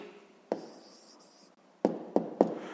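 Pen strokes on paper while a maths answer is written out by hand, a few short scratchy bursts with one early stroke and three quick ones near the end, quiet and close.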